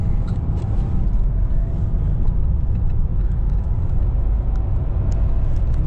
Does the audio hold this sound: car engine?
yes